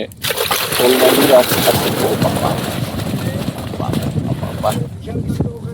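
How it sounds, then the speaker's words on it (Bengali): Snakehead fish thrashing and splashing inside a pot of water beside a canal in the Sundarbans, a busy, irregular sloshing that runs steadily through the whole stretch at close range. "আসফালন হ্যাঁ এটা শোল মাছে হাঁড়িতে রাখা"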